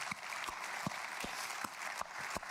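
A church congregation applauds, steady mixed clapping filling the room with a few sharper individual claps standing out, continuous throughout.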